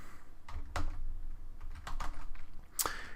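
Quick bursts of typing on a computer keyboard, close and crisp, with irregular clusters of key clicks and short pauses between them.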